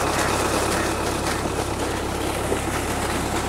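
A Belarus 510 tractor engine drives a 12-inch delivery tube well pump fitted with a filter, giving a steady, loud, continuous low mechanical drone with no break or talk.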